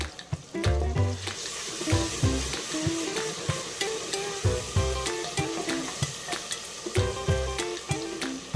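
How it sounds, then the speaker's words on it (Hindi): Onions and tomatoes frying in a pan, a steady sizzle with frequent scraping and clinking of a spoon stirring against the cookware, close and fairly loud, no talking. "प्याज और टमाटर फ्राई हो गए हैं।"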